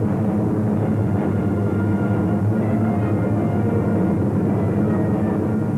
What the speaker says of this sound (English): He is a decorated ace and takes off in a jet fighter.